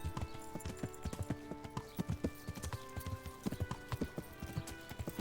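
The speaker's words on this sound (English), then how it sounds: "Damn, this horse can sprint." A horse galloping in the video game Kingdom Come, with rapid rhythmic hoof clip-clops close up over a faint game background, steady throughout.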